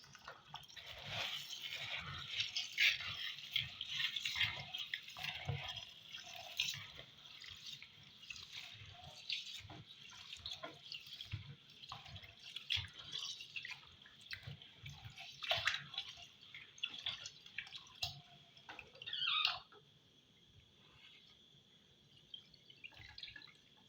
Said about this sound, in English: I'm going to be washing the rice.